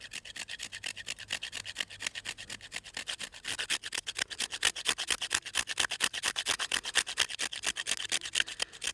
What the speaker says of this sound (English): scrape it on here and make some tinder in this box to use to help you start a fire